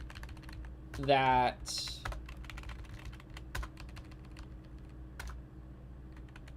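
Light keyboard clicks as a name is typed into a homemade game, scattered soft taps over a steady hum, with a short melodic game sound early on and brief talk.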